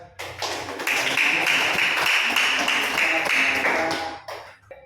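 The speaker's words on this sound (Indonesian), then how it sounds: "tepuk tangan luar biasa ya" Students clap together in a classroom during a Quran lesson. The applause rises quickly into a busy burst of many hands, holds for about three seconds, then tapers off with a few stray claps.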